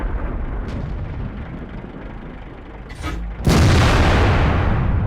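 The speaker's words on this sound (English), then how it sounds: "even with the Borsig's fantastic cannon." A Rhm.-Borsig Waffenträger tank destroyer cannon in World of Tanks fires once, a sudden loud blast about two-thirds through that rolls into sustained roaring rumble after a stretch of quieter mechanical ambience.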